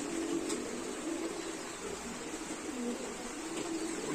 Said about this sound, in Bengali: এখানে দেখেন দেশি কবুতর সুন্দর কবুতর সব